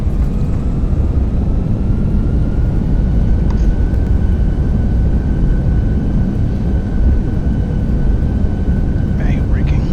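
Reverse thrust roars steadily through the landing rollout in a flight-simulated JetBlue A320 arriving at Minneapolis, a loud, broad, continuous rumble that lasts throughout.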